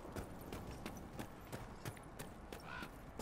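Horse hooves clip-clop in the Dragon Age Inquisition video game, a steady run of soft repeated hoofbeats at moderate distance over continuous background game ambience, with no talk.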